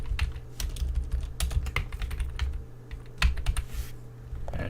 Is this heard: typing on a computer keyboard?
yes